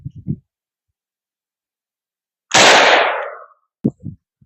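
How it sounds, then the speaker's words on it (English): A single loud, close gunshot from a .44 Magnum firing an Underwood 340 grain +P+ round during an outdoor clay and sand penetration test, with a sharp blast and a ringing decay of about a second; brief voices come just before and after. "here goes another round of the Underwood 340 grain"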